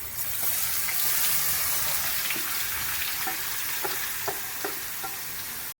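Onions frying in oil with mustard seeds, cumin and curry leaves, a loud steady sizzle with scattered spatula scrapes and stirs, close up, fading near the end.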